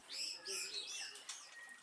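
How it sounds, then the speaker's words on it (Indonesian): Caged songbirds chirp and trill in a busy, continuous chorus of high, overlapping calls at moderate loudness. "agar burung tumbuh sehat dan gacor atau berkicau"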